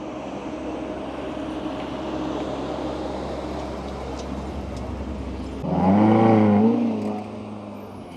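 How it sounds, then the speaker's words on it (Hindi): A Ferrari drives along a street in Austria over steady traffic rumble, its engine note swelling and climbing in pitch for a couple of seconds near the end before easing back. "फेरारी भी देख लें, फेरारी की सवारी।"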